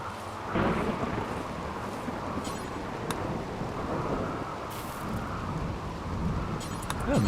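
A rainy thunderstorm in a survival video game, heard as a steady roar of rain and low rumbling thunder that fills the whole stretch, with a few sharp crackles and faint swells in intensity.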